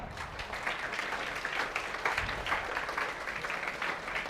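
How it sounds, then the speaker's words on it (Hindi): A classroom of students claps for a classmate, a steady, fairly faint patter of many hands continuing throughout. "तालियां"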